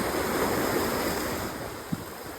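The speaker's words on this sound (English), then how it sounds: "Being present to each wave as it comes in and out." Surf rolls in and draws back along an ocean shore, a steady close wash of water that eases slightly toward the end, with a faint wind hiss and a brief soft knock.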